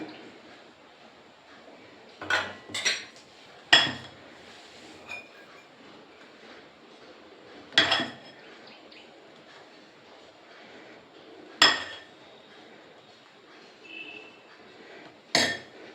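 Ceramic bowls clink sharply a handful of times while rice-cake batter is poured in, isolated knocks spread over a quiet kitchen background with no talk.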